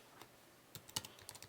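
Soft, quick keystrokes on a computer keyboard as a password is typed, a short scattered burst of clicks ending in a slightly louder tap, quiet and close.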